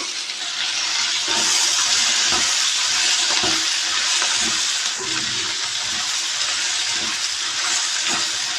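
Curry leaves and vegetable pieces frying in hot oil for a stuffed eggplant dish, a loud, continuous close-up sizzle and hiss with small crackles throughout.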